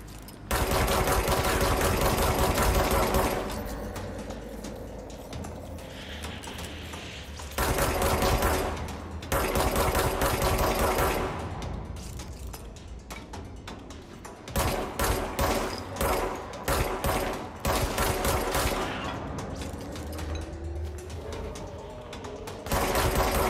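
Gunfire in the video game Control, with a standard weapon firing in long rapid bursts and shorter volleys separated by brief pauses, loud and dense throughout with no talk.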